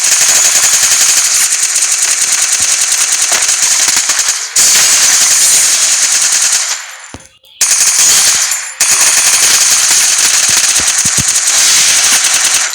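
Rapid automatic gunfire in a video game shootout, loud sustained bursts of machine-gun fire with a few brief pauses between volleys, no talking.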